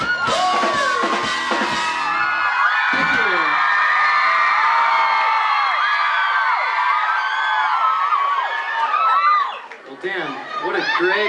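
A live concert crowd cheers, whoops and yells loudly and continuously for several seconds after a song ends, with a voice talking over the noise near the end.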